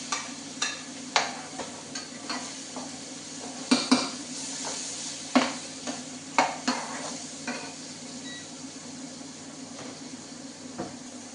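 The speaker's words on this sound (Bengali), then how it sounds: "এখন সবজি দিই।" Vegetables are tipped into a hot pan already holding chopped onion and garlic, then stirred. A steady sizzle runs underneath repeated utensil knocks and scrapes against the pan, loud and close at first and thinning out later, with no speech.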